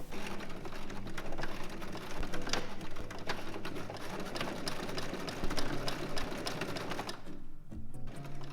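A sewing machine running steadily in reverse to lock a seam, its fast needle chatter and motor hum continuous and close for most of the span before stopping near the end.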